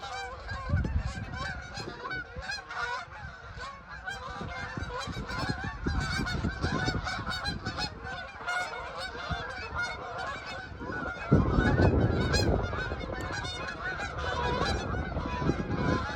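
Flock of wild migratory ducks landing, a continuous chorus of many honking, quacking calls overlapping at a moderate distance, swelling briefly louder near the end.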